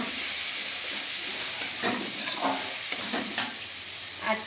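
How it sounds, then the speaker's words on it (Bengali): Onion paste with turmeric and slit green chillies fries in hot oil on medium flame for an egg curry, a steady loud sizzle with scraping stirs of a spatula, no voices. "এই যে পেঁয়াজটা আমাদের কষানো হচ্ছে মিডিয়াম ফ্লেমে"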